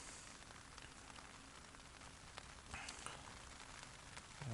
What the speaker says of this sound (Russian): Вон дождь пошел.